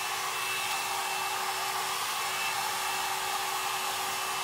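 Lange Le Volume hot air brush blowing steadily and close, a constant broadband whooshing hum with a faint steady whine, running alone without pause.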